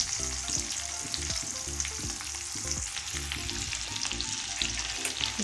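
Onions frying in hot oil in a pan with garlic and bay leaf, a dense continuous sizzle close up, with scraping stirring sounds recurring throughout and no voices.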